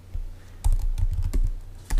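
Quick bursts of keystrokes on a computer keyboard, close and crisp, clustered into a few short typing runs separated by brief gaps.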